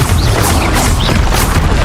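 Fiery Confringo spell blast in Hogwarts Legacy, a sustained booming, crackling rumble filling nearly two seconds at steady loud level, with no talk over it.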